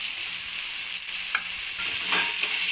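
Carrots, peas and capsicum fry in a hot pan with a constant close sizzle, while a few spoon scrapes and stirs cut through the hiss; no one speaks.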